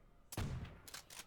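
Trench gun shotgun firing in Call of Duty: World at War, one sharp close blast with a deep bassy boom, followed by a couple of fainter crackling reports, with no talking.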